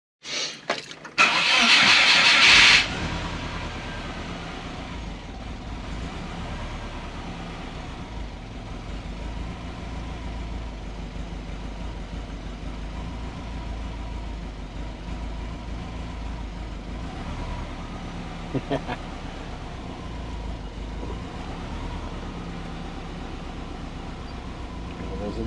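A Subaru Forester engine cranks and catches with a loud burst, then settles into a steady, even idle that runs on and on, close and alone.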